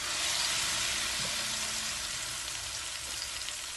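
Eggplant slices frying in hot oil in a frying pan, a steady close broadband sizzle that holds evenly throughout without any talk.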